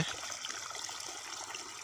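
Water running into a vegetable plot of papaya, tomato, brinjal and lemon for irrigation on a village farm, a steady soft rushing trickle, faint and continuous.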